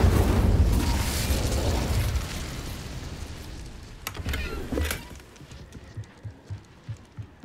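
An Incendio fire spell blast in Hogwarts Legacy, opening with a loud roaring burst of flame that fades, then sharp crackling hits and a series of rhythmic low thumps that weaken toward the end.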